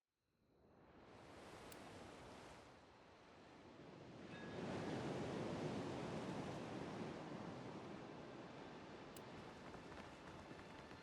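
Steady broadband surf from waves lapping at a village dock in the fantasy role-playing game Pillars of Eternity II: Deadfire, swelling from a soft wash into a louder, continuous roar that holds to the end, with no talk.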